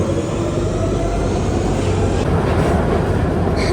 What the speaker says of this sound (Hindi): इस बार हम लोग ट्यूब ट्रेन में ट्रैवल करके देख रहे हैं कैसा लगता है।